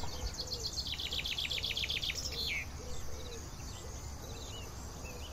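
Birds chirp in leafy, dense green trees, a rapid trilling song up close at first and then softer scattered calls over a steady insect-like background hiss.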